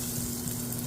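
Plenty of butter melts in a pan on a home stove for a batch of eggs, giving a steady, fairly loud hissing sizzle with a low hum underneath, continuous throughout.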